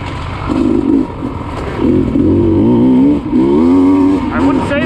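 A Sherco dirt bike engine runs while being ridden, revving up and down with a buzzing two-stroke-like drone and some wind, with someone talking over it.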